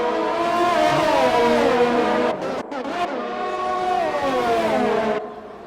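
Race cars in a racing video game, a Renault and a McLaren battling for third place, roar continuously with high revving engines and shifting pitch as one overtakes, loud and close with a brief dip in the middle.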